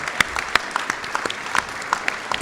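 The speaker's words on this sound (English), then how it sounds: "I'd like to give them another round of applause" Scattered applause from a town meeting audience, sparse individual claps with sharp uneven hits rather than a dense roar, moderately loud and close.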